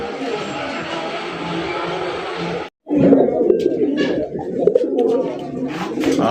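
Pakistani High Flyer pigeons coo steadily and close, a dense layered murmur of several birds, broken by a brief silence partway through before the cooing resumes just as loud.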